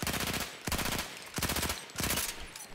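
Rapid automatic weapon fire in the video game Battlefield 1, several loud close bursts of fast repeated shots separated by brief pauses, with no talk over them.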